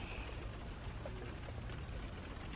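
Steady rain falls outside a parked car, a dense, even patter heard from inside the vehicle, continuous and fairly faint with no voices.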